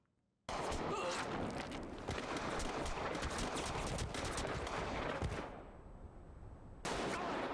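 Dense, loud gunfire from a Squid Game Red Light, Green Light scene plays as a continuous rattling burst for several seconds, drops out briefly, then resumes abruptly.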